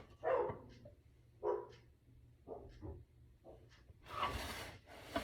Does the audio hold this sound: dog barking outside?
yes